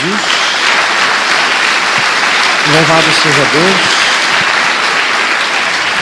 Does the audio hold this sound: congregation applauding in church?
yes